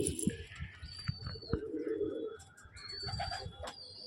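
Pigeons coo in a loft, with low, soft, rolling coos repeating near and steady while faint higher chirps and noises scatter above.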